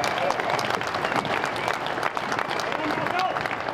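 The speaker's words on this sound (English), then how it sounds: "I'd like to hear a round of applause for the organisers of this event" A crowd at an outdoor rally about hunting on public land applauds the event organisers, dense, loud clapping sustained throughout with scattered voices mixed in.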